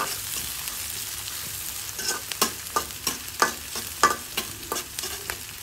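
Sliced garlic and onion fry gently on low heat with a steady soft sizzle, while a spatula scrapes and taps the pan in a run of distinct strokes during the second half.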